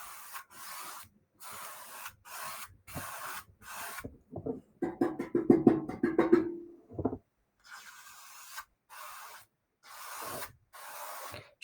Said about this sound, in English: dragging, not soaking your paintbrush in a bunch of paint